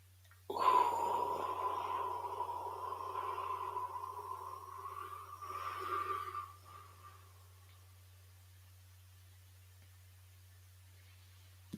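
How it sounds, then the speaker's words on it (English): A slow, drawn-out breath during a 4-7-8 breathing exercise, a soft airy exhale lasting several seconds close to the mic, then quiet. "Try that 4-7-8 breath that we were talking about the other day"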